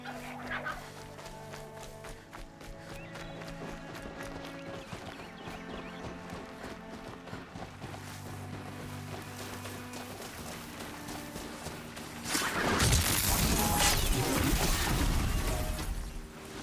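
A horse's hooves clip-clop at a steady gait in the video game Horizon Zero Dawn over soft ambient music, followed near the end by a louder burst of rushing, noisy sound.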